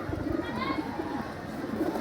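Pigeons in a loft cage at night after feeding give low, soft rolling coos close by, heard beneath a voice.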